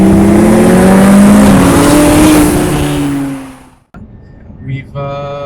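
An Audi A6 TDI diesel with a modified exhaust revs loudly and close, its pitch climbing and then falling away before a brief quiet and a smaller blip of revs.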